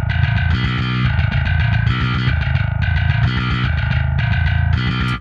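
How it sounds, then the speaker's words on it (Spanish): Electric bass played through a gritty distortion effect that stops short of full fuzz: loud, heavily driven repeating riff phrases with a buzzing, saturated tone, played alone without talk and ending abruptly. "ese que dice grit, que tiene ya como una distorsión, pero tampoco tan, tan fuzz, sino más modernosa"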